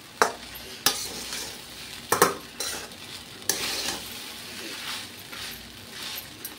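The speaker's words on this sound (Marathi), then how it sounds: "त्याच्यामुळे आपल्याला ती सारखी हलवत जोपर्यंत शेवटपर्यंत हलवतच राहायची आहे." Sago (sabudana) khichdi is stirred in a pan with a spoon, giving repeated scraping strokes at irregular intervals over a faint, steady sizzle, close by and without speech.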